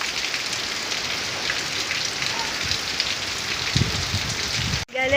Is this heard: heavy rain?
yes